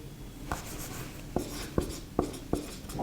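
Marker or chalk writing on a board during a chemistry lecture on oxidizing reagents: a series of sharp taps and short strokes at an uneven pace, fairly close, with no talk over them.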